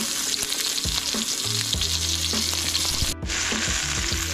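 Venison shanks brown in a pot with a dense, continuous sizzle and crackle, close and fairly loud, broken only by a momentary gap near the end.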